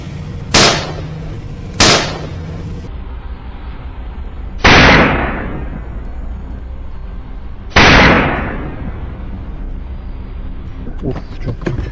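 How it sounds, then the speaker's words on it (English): Gunfire during a wild boar hunt: four sharp, loud shots, two in quick succession and then two more spaced a few seconds apart, each ringing out over a steady outdoor background. "A decisive gunshot rings out the moment the wild boar emerges."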